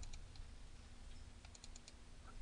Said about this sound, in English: And I do that by double-clicking on it.